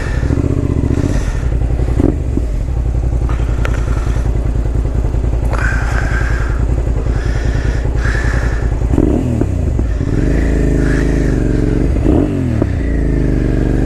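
A Suzuki SV650S motorcycle on a test ride in Foster City, California runs close and loud. Its V-twin engine rises and falls through the gears, with revs swelling and dipping and a few clunks along the way.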